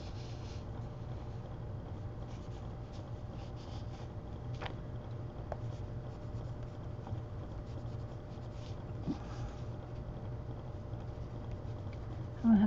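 A colored pencil scratches steadily across paper while someone colors in a flower stem, a soft continuous rubbing hiss with faint background hum and a few light taps.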